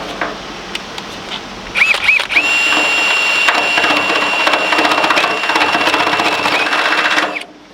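A power drill whines steadily at high pitch for several seconds as it bores through metal hydraulic pipework, its tone wavering slightly as it bites, then stops abruptly.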